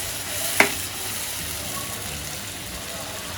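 Malai chicken kofta gravy with tomato puree simmers in a pan, giving a steady close hiss and bubbling throughout, with a single brief click near the start.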